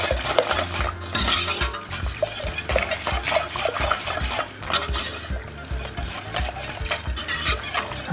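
A spoon stirs warm milk in a pot on the stove, scraping and clinking against the metal in a quick, steady rhythm, with a faint sizzle underneath and no talking.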